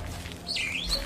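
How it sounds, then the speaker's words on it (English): Birds chirping in a forest, a short tweeting call rising and falling in pitch, moderately faint over a soft background hiss. "chirping of birds, right?"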